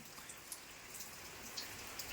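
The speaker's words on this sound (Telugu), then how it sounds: "వర్షం అయితే తగ్గుతలేదు" Steady rain falls with a constant hiss, a few louder drops pattering nearby.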